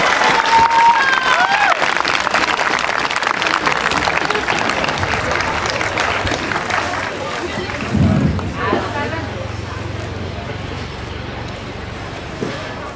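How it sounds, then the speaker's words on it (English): Applause and crowd hubbub from spectators at an outdoor costume parade, a steady clatter of clapping mixed with chatter over about thirteen seconds, with a voice speaking over it partway through. "Get a huge round of applause to the Bumblebee."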